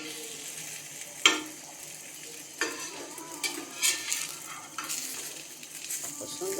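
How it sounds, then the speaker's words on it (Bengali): Taco tortilla frying in oil on a tawa, a continuous soft sizzle broken by several sharp clinks and scrapes of a utensil against the pan. "এবার এটা আমি উল্টিয়ে দেবো আরেক পিঠ ভাজার জন্য"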